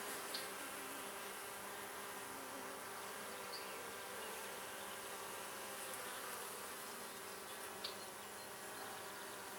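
Bees hum in a dense, continuous drone throughout an open beehive inspection, close and steady, with a few individual bees buzzing nearer at moments.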